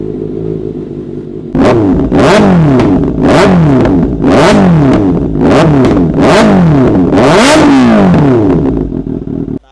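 A Ducati motorcycle exhaust fitted with damping sheet idles with a low burble, then snaps through a series of about seven sharp, loud revs in quick succession, each rising and falling back, very close.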